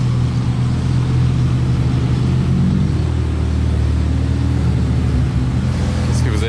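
A small convoy of supercars, including a Mercedes SLS and an STO, drives past near the Métropole, giving a steady, loud, deep engine rumble that holds throughout without clear breaks.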